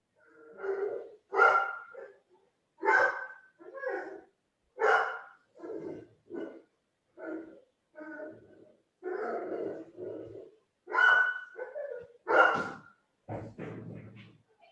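A dog barks in repeated sharp bursts spaced about a second apart, loud and close, with a few yips and whimpers near the end and no speech.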